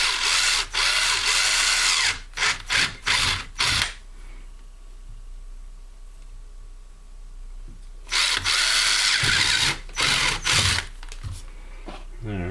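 A 9/32 wood bit is drilled into a rifle cheek riser in several whirring power-drill bursts, loud and close, separated by quieter pauses with faint background hum.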